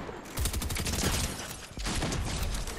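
Rapid gunfire in the Fortnite video game, a dense run of loud, close shots in quick bursts with a short break partway through, no speech.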